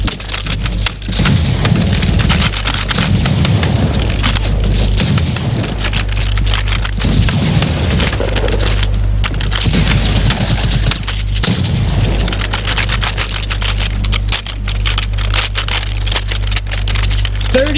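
Bomb exploding in a first-person shooter, loud booming blasts with crackling debris over continuous, heavy game noise and a low hum, dense and sustained throughout.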